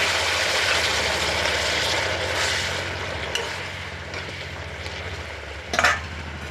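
Vegetables for shukto, a Bengali mixed-vegetable dish, go into a frying pan, giving a continuous broad sizzle with a low steady hum underneath and a sharper burst of crackle near the end, no talking.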